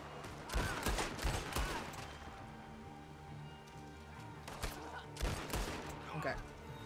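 Gunfire in the online Western game Red Dead Online comes in two rapid bursts of close, punchy shots separated by a quieter stretch, with voices talking at times.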